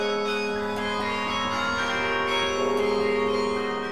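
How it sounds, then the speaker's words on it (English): The Washington National Cathedral's Kibbey Carillon bells play a slow Bach melody, their overlapping tones blending into a rich, resonant wash heard from a moderate distance. "They hear the bells for up to a mile from the cathedral"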